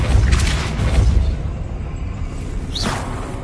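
A Depulso force spell cast in the Hogwarts Legacy video game, heard as a deep booming whoosh with a low rumble, followed later by a brighter rising swish.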